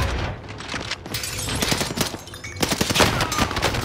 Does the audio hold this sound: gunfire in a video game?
yes